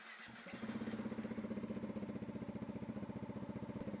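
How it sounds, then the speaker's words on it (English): Motorcycle engine catches after a brief starter crank and settles into a steady, rhythmic idle, moderately loud and close with no talk. "So I need to start the bike, give it a few seconds, then you'll see this power on."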